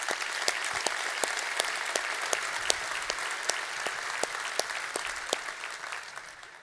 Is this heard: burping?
no